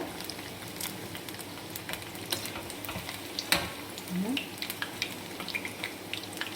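Bondas fry in hot oil with a soft, steady sizzle, spattering and scattered clicks from flipping them, with a slightly louder scrape midway and no talk.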